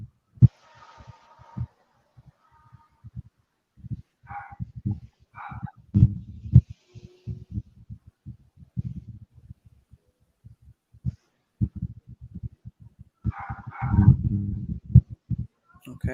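A neighbor's dog barks from off to the side, a few brief muffled bursts scattered among low thumps and knocks in a quiet indoor room, with no voices.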